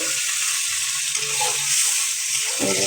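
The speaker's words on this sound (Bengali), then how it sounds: "পানি দিয়ে ভালোভাবে নেড়ে ছেড়ে দিলাম।" Shrimp masala loosened with a little water sizzles and spits in a pan while being stirred, a continuous close frying hiss with faint scraping, no voices.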